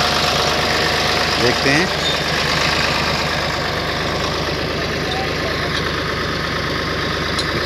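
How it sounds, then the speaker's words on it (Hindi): A tractor engine idles steadily with a low, continuous rumble and rhythmic knocking while a trolley is being hitched, close and loud throughout, with a few spoken words from people nearby. "ट्रैक्टर को जोड़ रहे हैं,"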